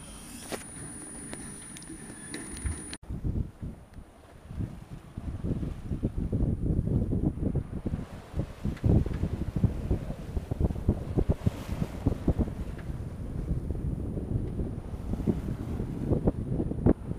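Strong wind roars over a sailboat at sea, beating into a 16-knot headwind; dense, steady gusting wind noise with water rushing, loud and continuous without a break.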